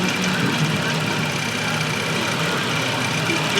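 A Honda ADV 160 scooter engine with Kyobo cams idles steadily close by, a continuous low rumble with a faint rattling edge throughout.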